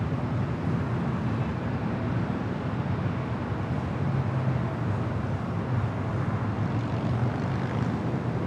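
An aircraft at LAX airport, heard as a steady, loud, broadband engine roar that holds without a break throughout.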